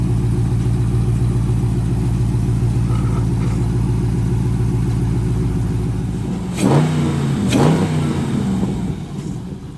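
A car engine fitted with an AFE Magnum Force Stage-2 Track Series carbon fiber intake idles with a loud, steady low rumble, then gives two sharp revs near the end before settling back down.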